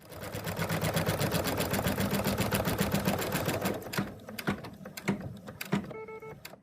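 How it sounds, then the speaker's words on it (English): An embroidery machine stitches the placement line for an appliqué on an in-the-hoop bunny design. A rapid, even needle clatter runs for about four seconds, then breaks into scattered clicks and a few short mechanical taps. "We're now going to stitch the position line for the applique"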